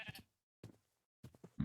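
Sheep bleat in the Minecraft game Hoplite: three short bursts separated by silent gaps, fairly quiet and clean, with no talk over them.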